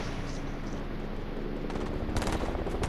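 Video game gunfire crackles continuously through the clip, a dense rattle of shots that gets louder and sharper toward the end.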